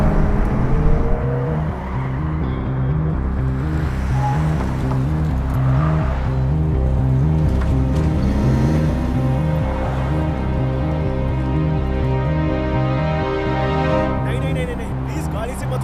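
A car drives with a steady, close engine drone and road noise running throughout.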